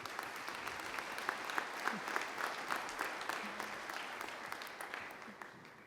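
Applause from a college commencement audience, a fairly quiet and distant wash of many hands clapping that holds steady for several seconds.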